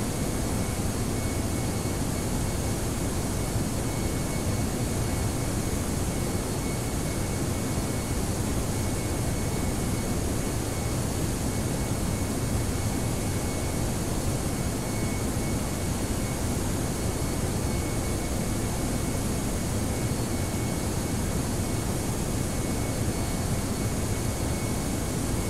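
Airbus A320 jet engines roaring steadily during takeoff in the Prepar3D flight simulator, a constant, loud broadband rush with a faint high whine, unbroken and without voices.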